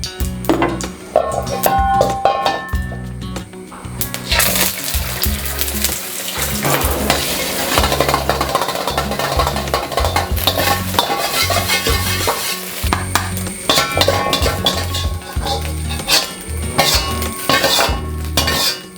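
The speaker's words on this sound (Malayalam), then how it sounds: "ആദ്യം ഒരു എഗ്ഗ് ബീറ്റ് ചെയ്ത് ഇതിനകത്തേക്ക് ഇട്ട് കൊടുക്കാം" Beaten egg cooks in a seasoned pan for hotel-style chicken noodles, with continuous sizzling frying and steady stirring, and a spatula scraping and clinking against the metal pan throughout, close and fairly loud.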